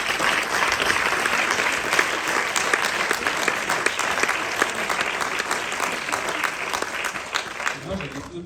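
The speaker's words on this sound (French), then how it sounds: "je vous demande de les applaudir à nouveau s'il vous plaît" An audience at a film premiere applauds the cast with sustained, dense clapping that fills the whole stretch, loud and close, with a faint voice underneath.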